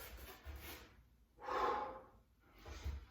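Heavy breathing during a workout exercise: a few loud, rough breaths in and out, close to the mic, in an uneven rhythm with short pauses between them.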